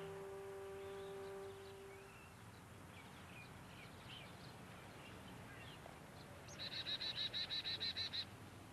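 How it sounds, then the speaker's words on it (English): Small birds chirp on a compact city balcony, faint scattered calls over steady background noise, ending in a brighter run of quick repeated high notes. "Birds also come to her 10-foot-by-10-foot balcony."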